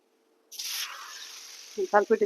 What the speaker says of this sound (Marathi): आपण तव्यावर अशा पद्धतीने टाकून दिले गॅस थोडा मोठा केलेला आहे